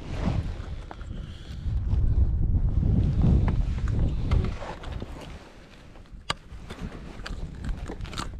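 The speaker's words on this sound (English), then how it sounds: "Wind's picking up" Wind gusting across a lake, buffeting the microphone in strong rumbling bursts that rise and ease, with faint knocks and rattles from a boat.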